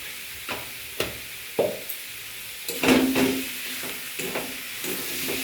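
Rohu fish masala with turmeric sautéing in a pan: a steady hiss of frying under sharp utensil clacks and scrapes as the spices are stirred, with several distinct knocks spaced irregularly.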